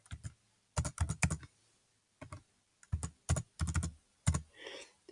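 Bursts of computer keyboard typing as titles are entered into a spreadsheet, clustered clicks separated by short pauses, close and clear with no talking.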